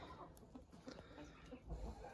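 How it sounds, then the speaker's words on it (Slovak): Hens cluck softly in a few short, scattered calls. The sound is faint and close, with some low background noise and no talking. "No, sliepočky."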